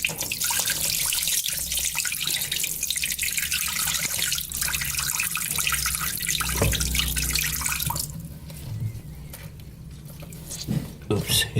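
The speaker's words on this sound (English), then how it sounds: "Water will come out." Water drains from the filter opening of a Daewoo vertical top-loading washing machine, a steady close rush of pouring water that thins out toward the end as a voice talks over it.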